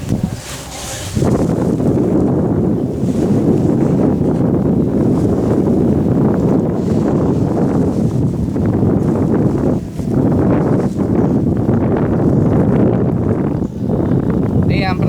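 Strong wind roars steadily into the microphone outdoors during bottom fishing, a loud continuous rumbling buffet lasting the whole stretch after a short quieter opening, with no clear voices.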